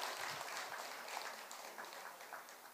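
An audience at a Buddhist dharma lecture gives a short burst of applause, a soft, diffuse patter of many hands heard from a distance, fairly quiet and sustained for a few seconds.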